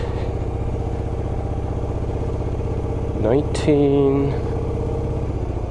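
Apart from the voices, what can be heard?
motorcycle engine while riding on a bumpy road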